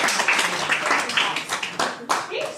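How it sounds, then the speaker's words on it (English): A small audience applauds a performer, giving brief, thin clapping from a few pairs of hands, near and fairly loud, with voices mixed in. "Please put your hands together for Sara Poulin."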